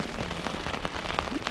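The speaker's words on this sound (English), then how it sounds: "It's been raining here for about the last 3 hours." Steady rain pattering on a tent near Durango, Colorado, a dense close patter of drops with a few sharper taps standing out, continuous and alone at a fairly quiet level.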